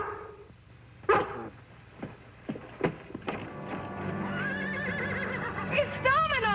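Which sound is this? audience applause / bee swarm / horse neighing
horse neighing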